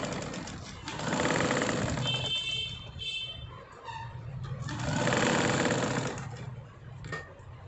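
A sewing machine stitches folded fabric scraps in two long, close runs of fast whirring, easing off briefly in between.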